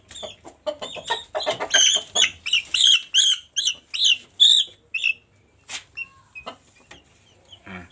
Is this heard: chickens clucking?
yes